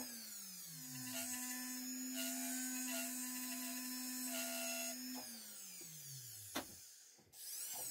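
A rotary carving tool works into jewelry wax, marking the layer divisions and the tip of a small prong setting, a steady high whine with shifting pitch that runs continuously, then winds down near the end with a few scraping touches.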